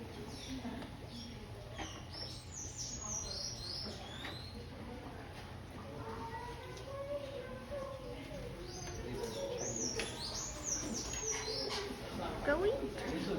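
Birds in an aviary coo and chirp softly at a distance under low background hum, with people talking quietly nearby.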